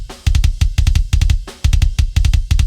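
A kick drum track plays back in REAPER: loud, punchy beats in quick repeating clusters, with short gaps between the groups and no talking.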